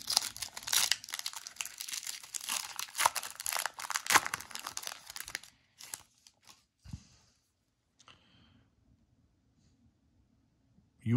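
A crinkly plastic foil wrapper from a 2024 Topps Holiday baseball card pack rustles and tears close by for several seconds, then quiets to a few soft handling rustles and taps with no talking.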